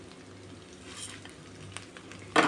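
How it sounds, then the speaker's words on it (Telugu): Chili powder, turmeric, salt, coriander, cumin and mustard powder frying lightly in hot oil, a low steady sizzle with soft stirring scrapes, ending in a sudden louder burst of hissing near the close. "కాస్త లైట్గా ఆయిల్లోనే కారం కూడా పచ్చివాసన పోయేటట్టు కొంచెం లైట్గా వేయించుకోవాలి"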